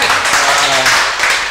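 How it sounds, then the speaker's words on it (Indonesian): Small group at an Indonesian podcast clapping loudly and close by, with a voice speaking briefly over the applause. "tepuk tangan deh"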